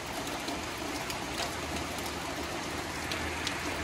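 Steady rain falls at a farm garden house in Udon Thani during a storm, a constant, even hiss with faint scattered drops and no voices.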